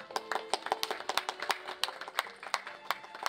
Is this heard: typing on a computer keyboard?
no